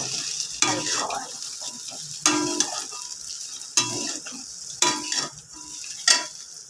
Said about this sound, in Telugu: ఇలా నూనెగుండ వేసుకొని దీన్ని బాగా కలుపుకోవాలి.